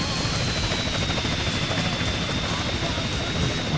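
A police helicopter in GTA San Andreas, producing a constant, loud, whirring rotor drone that fills the whole stretch with steady broadband noise.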